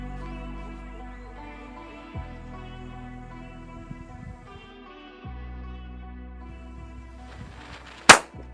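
A sutli firecracker set off by a remote switch bursts once with a single sharp, loud bang near the end, preceded by several seconds of quiet humming background.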